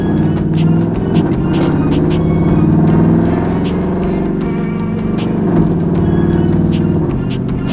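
A 2014 truck fitted with Carven R-series mufflers accelerates from a street corner, its exhaust giving a steady, loud, deep rumble that holds throughout with slight swells.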